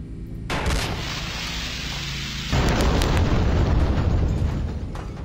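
Explosion in the video game Deep Space 7: a sudden loud blast followed by a second, heavier boom with a rumbling, crackling roar that slowly fades, no voices over it.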